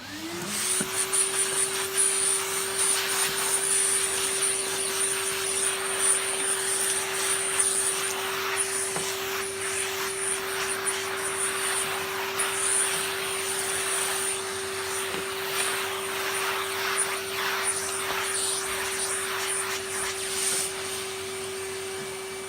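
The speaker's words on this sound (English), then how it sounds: "let me get the vacuum into here" A Hoover Junior 1334 upright vacuum cleaner with a refurbished motor runs nearby in one unbroken, steady whining drone with a high motor pitch, alone and without pauses.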